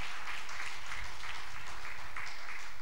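A church congregation claps during a Sunday service, a faint but steady rhythmic patter of many hands heard from some distance and sustained through the whole stretch.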